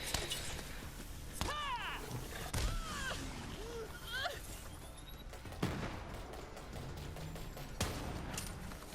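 Gunfire in Borderlands 3, with several sharp, loud shots spaced a couple of seconds apart, mixed with creature squeals and game effects while a person talks over the action.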